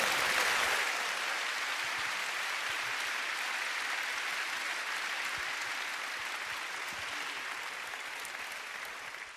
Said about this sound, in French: Merci d'applaudir encore plus chaleureusement Benoît Dutertre et Michel Houellebecq.